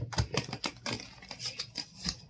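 Rapid, crisp riffling and tapping of tarot cards being shuffled, a burst of quick papery flicks repeated close by with no talking.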